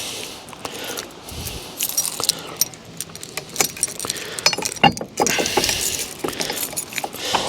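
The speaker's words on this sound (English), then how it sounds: "Find the keys." Close, bright jangling of a bunch of keys with scattered metallic clinks and rattles, irregular and continuous while a heavy-duty lock is being refitted on a caravan with an Alko chassis.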